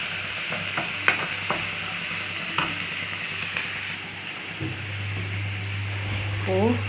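Onions sautéing in a pan for butter mushroom masala, a steady sizzle with repeated spoon-against-pan stirring scrapes, close and fairly loud, with a low hum running beneath and no one speaking.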